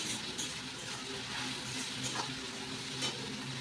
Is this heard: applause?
no